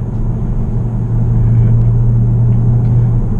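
VW Arteon R-Line 2.0 TDI 240 HP diesel heard from inside, a loud steady low engine drone with a slight rise in the middle as it pulls, no voices.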